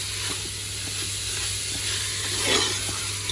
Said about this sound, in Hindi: अब साथ ही हम इसके अंदर अपने कीमा ऐड कर देंगे। इसको भी आप 1 मिनट के लिए फ्राई कर लें, थोड़ा सा भून लें।